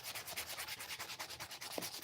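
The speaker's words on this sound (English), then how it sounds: "Sand until the color comes back" Rhythmic back-and-forth sanding strokes rub across a wet surface in a shop, steady and fairly close, with no voices.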